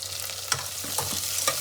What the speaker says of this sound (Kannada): ಈರುಳ್ಳಿ ಎಲ್ಲ ಕೆಂಪು ಹುರ್ಕೋಬೇಕು